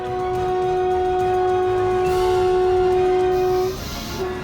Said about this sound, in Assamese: 8:59 ৰেলখনৰ ফ্লেগ অফ কৰা হয়